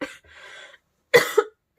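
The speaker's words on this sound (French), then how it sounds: "Excusez-moi, j'ai une quinte de toux." A woman with a recent throat infection coughs in a short fit: a first cough, then a pause, then two close, loud coughs and another one right after. No talking is heard.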